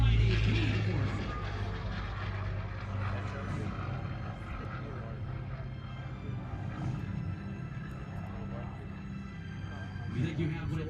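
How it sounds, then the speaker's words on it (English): A P-40 warbird flies at a Columbus, Ohio airshow, its steady propeller-engine drone sustained throughout beneath continuous announcer commentary. "in the mighty P-40"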